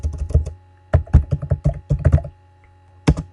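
Short bursts of clicky keystrokes on a computer keyboard while entering text into an Excel spreadsheet, close and crisp, with brief pauses between groups and one last cluster of keystrokes at the end.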